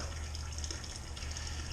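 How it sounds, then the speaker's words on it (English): Strike water fills a brewing kettle in a steady, continuous rushing gush from a tap, close and even throughout, with no talking. "Fill in the strike water"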